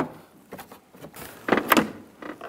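A Volkswagen Beetle interior door panel is lifted and slid up off the door, giving a short series of scraping, clicking plastic rubs that build to a louder rattle near the end, heard up close without talk.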